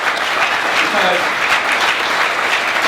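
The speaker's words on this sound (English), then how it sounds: "I want to give our associate members a really huge round of applause from our veterans" A convention audience of veterans claps and applauds in a dense, steady wave filling a large hall, loud and continuous for the whole stretch with faint voices mixed in.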